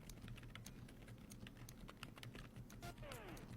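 Quiet, rapid typing on an Osdom 98 Pro silent mechanical keyboard with numpad, soft muffled keystrokes clicking in a dense continuous patter, close but faint.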